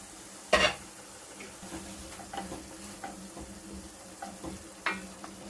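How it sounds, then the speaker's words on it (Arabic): Garlic and tomatoes fry together in a pan over medium heat with a soft steady sizzle, broken up by scraping stirs and a few louder clinks of a utensil against the pan. "نحط من الأولى 2 مغرفات ثوم مع الطماطم، خليهم كاكا يشكشكوا ويتقلاو مع بعضهم مدة 5 دقائق"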